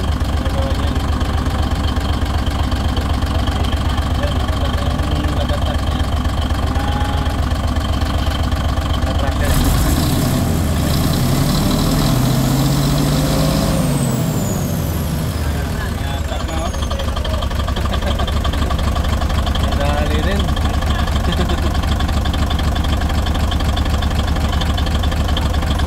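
A 6M70 diesel engine idles smoothly with no knocking, giving a steady low rumble. A louder, shifting burst of mechanical noise passes in the middle, and there is no clear talk over it.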